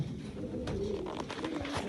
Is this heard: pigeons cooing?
yes